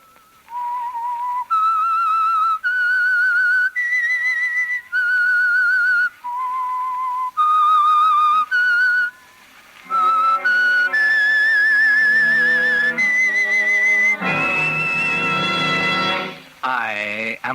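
A clear, eerie melodic whistle carries a slow tune of sustained notes, then swells into a fuller orchestral passage near the end.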